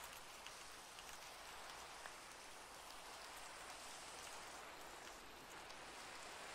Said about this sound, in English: Ah, blessed rain.